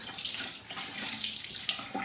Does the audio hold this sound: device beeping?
no